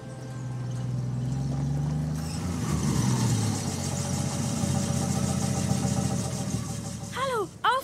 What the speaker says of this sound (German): Dann wurde das Auto endlich langsamer.